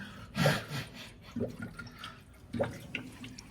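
Coolant is poured into the engine of a 1962 Dodge D200, giving a soft splashing gurgle in a few uneven bursts. It stays quiet and close, with no speech over it.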